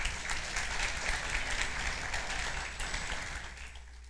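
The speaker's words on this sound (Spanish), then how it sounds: "dale un aplauso al Señor." A church congregation applauds during a sermon, a dense, sustained roar of clapping that gradually thins and fades near the end.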